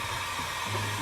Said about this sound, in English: Go ahead and grab my heat gun